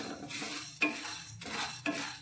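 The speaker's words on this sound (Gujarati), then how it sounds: "મગની સાથે જ અત્યારે મેં 2 મોટી ચમચી ચણાની દાળ લીધી છે, તે પણ અંદર સાથે લઈ લઈશું અને બંને વસ્તુને સાથે જ આપણે શેકી લઈશું" Mung beans and chana dal dry-roasting in a pan, with three distinct scraping stirs of a spoon through the dry grains at a steady rhythm, close and moderately loud with no talking.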